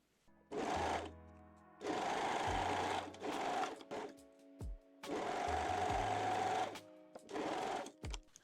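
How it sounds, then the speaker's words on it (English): A sewing machine stitches the edges of a fabric waistband for underwear, right sides together. It runs in several bursts of about a second each, close and clear, with quiet pauses and small clicks between the runs. "Pin and sew the edges right sides together."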